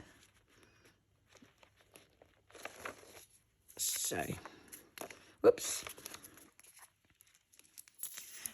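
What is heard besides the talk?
tearing paper for a journal tuck spot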